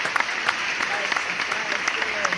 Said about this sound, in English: we gotta clap it up too